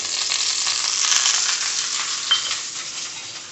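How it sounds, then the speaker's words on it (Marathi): Oil sizzling steadily in a hot pan as potato slices shallow-fry, a continuous bright crackle at close range with a few small clinks and no talking. "आता आपण शॅलो फ्राय करायला घेणार आहोत पॅनवर आता पॅन छान मस्त गरम करून घ्यायचं आणि त्या त्यावर हे तेल टाकायचं"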